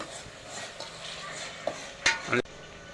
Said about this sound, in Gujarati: હવે એને આપણે હલાવી લેવાનું છે.